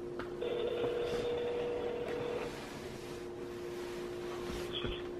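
A phone on speakerphone dials a call, with sustained tones and short beeps over a low background hum, fairly clear and close.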